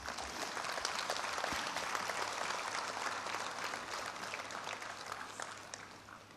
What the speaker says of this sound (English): Such a momentous exercise as this calls for a resounding applause.